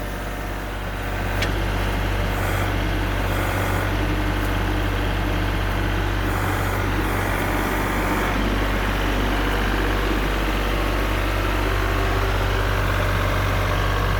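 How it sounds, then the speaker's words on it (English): A backhoe engine runs steadily while its bucket is worked, giving a loud, continuous low diesel drone with no pauses and no talking. "So this is her first time using a backhoe"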